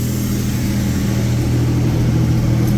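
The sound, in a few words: Toyota T100 engine idling down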